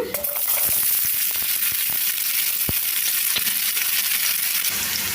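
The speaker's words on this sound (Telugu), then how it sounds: "నూనె వేడెక్కిన తర్వాత ఉల్లిపాయ ముక్కలు వేస్తున్నాను" Onion pieces hit hot oil for a spiny gourd and tomato curry, giving a loud, constant sizzle with scattered crackles and pops throughout.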